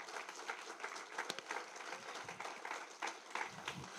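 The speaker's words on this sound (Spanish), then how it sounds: "¿Alguien le da un aplauso al Señor Jesús por eso?" Congregation members in a church service applaud, making faint, somewhat distant clapping with scattered sharper claps and a little murmuring beneath.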